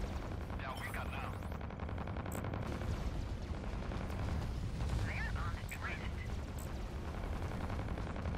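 Spaceship weapons in the space combat game Fractured Space fire in a continuous rapid barrage with sharper blasts mixed in, loud and dense under intermittent voices.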